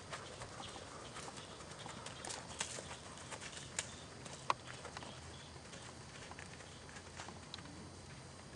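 Horse hooves clip-clopping at a walk in an arena, a steady soft rhythm of footfalls with a few sharper knocks, faint and somewhat distant over a low background.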